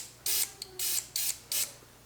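Lysol disinfectant sprayed onto a face mask held in one hand: four short, loud hissing aerosol bursts in a steady rhythm, close up, with no talking.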